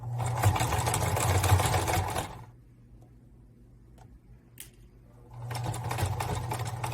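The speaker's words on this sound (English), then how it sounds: "It's forward, back, and start taking the pins out as you're going. And you're going to just stitch down." A sewing machine stitches a fabric face mask in two fast, steady whirring runs, stopping near the middle for a quiet pause with a few small clicks before starting up again, close and clear with no voices.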